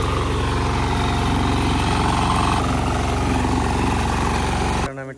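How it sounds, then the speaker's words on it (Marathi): A tractor engine runs close by with a steady, heavy low rumble and vibrating idle-like throb that stays loud and even for several seconds before cutting off near the end, with no clear talk. "ट्रॅक्टरनं इथे बागेतनं घेऊन जातो घरात."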